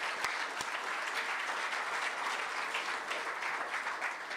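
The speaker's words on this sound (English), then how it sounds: "we should give some of them a round of applause who are here today" Sustained, even applause from a seated audience at a send-off event honoring Chiefs football legends, steady crowd clapping at moderate distance with no talking over it.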